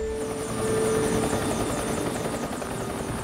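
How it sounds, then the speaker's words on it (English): Helicopters flying over the Florida Everglades swamp after an airliner-sized jet crash, a steady loud rotor drone with a whining turbine tone, continuous throughout with no voices. "Need to get your choppers in the air."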